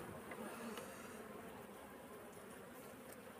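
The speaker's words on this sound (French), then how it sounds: "Donc là on voit il y a des abeilles un peu de toutes les couleurs" Honey bees buzzing around an opened beehive frame, a continuous soft droning hum of many bees close by, steady and faint with no other sounds over it.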